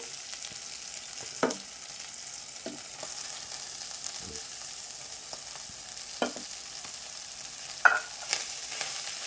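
Green chilies and tender tamarind leaves frying in a pan, a soft steady sizzle with a few sharp scrapes and clicks of stirring scattered through, quiet and close, with no voices.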